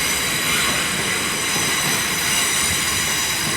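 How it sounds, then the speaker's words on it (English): A TfL Rail train pulls into London Paddington as a terminating service, a steady close rumble of wheels and carriages with a broad hiss filling the whole stretch and no break in the noise. "Also coming in is a terminating TfL Rail service."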